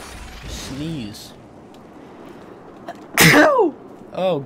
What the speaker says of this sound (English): God bless me. I'm so sorry. For sneezing.